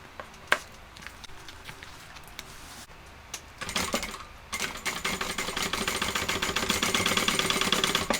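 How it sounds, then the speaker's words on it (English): A sewing machine top stitching both sides of a shoulder bag. It starts with a few faint clicks and a short burst, then runs in a steady, fast, close mechanical whir that grows louder toward the end. "while I top stitch both sides"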